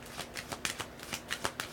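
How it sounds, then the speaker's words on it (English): Rapid papery riffling of a deck of playing cards being shuffled, several quick bursts in a row, close up with no voices. "I like these cards. They're just hard to shuffle though."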